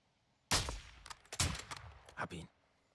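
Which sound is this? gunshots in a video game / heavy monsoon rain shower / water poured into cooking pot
gunshots in a video game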